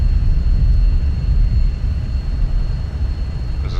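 F-16 jet landing on a short runway in a flight game, heard as a loud, steady low engine roar with a faint high whine that holds throughout.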